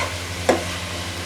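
Chicken sautéing in a pan for chicken macaroni, a dense steady sizzle close by with two brief stirring scrapes, and no voices.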